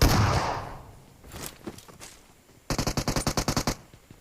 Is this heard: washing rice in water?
no